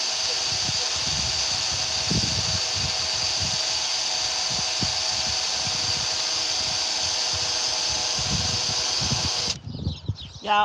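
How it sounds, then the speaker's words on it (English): A power drill runs steadily, re-drilling screw holes in a van's roof deck, with a continuous whirring drone for most of the stretch before it cuts off abruptly near the end. "I got to re-drill these holes out"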